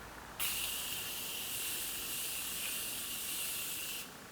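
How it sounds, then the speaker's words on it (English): A single continuous spray of Morphe setting spray hisses close by onto a face for about four seconds, starting and stopping abruptly. "I'm gonna spritz my face with a little bit of setting spray."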